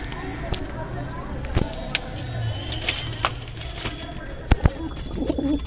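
Malbai pigeons in a loft give low, soft coos at close range among sharp taps and knocks, while someone talks over them.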